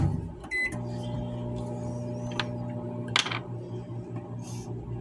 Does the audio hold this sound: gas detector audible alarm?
no